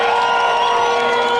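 A large political rally crowd in Meru town cheers and claps for Tigania West MP Dr Mutunga at a Deputy President Ruto event, a loud, dense, continuous roar of applause and shouting throughout.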